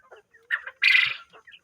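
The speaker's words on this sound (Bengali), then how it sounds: "এই যে দেখেন মুরগি বাচ্চাগুলো, দেখেন গরমে কী করতেছে" Poultry-farm chickens in hot weather give a few short close clucks and one louder squawking call in a quiet shed, with brief gaps of silence between them.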